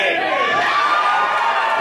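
A wrestling-event crowd in an arena cheers and shouts loudly and continuously, a dense roar of many voices with excited whoops rising through it.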